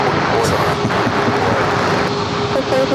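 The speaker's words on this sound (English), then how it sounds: "We have a lineup of planes about to take off on 27" Airliner jet engines roar at San Diego airport as planes line up for takeoff on runway 27, a loud, broad, steady rumble and whoosh that fills the whole stretch with some wind noise, and a voice talks over it.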